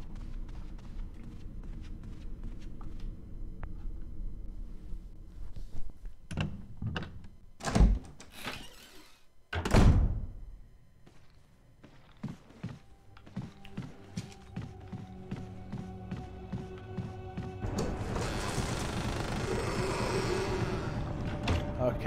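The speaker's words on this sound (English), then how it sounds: "zombie opening a door." In the video game Resident Evil Remake, a zombie opens a door: a series of heavy thuds and knocks, with two loud bangs in the middle, followed by a creaking, grinding rasp near the end.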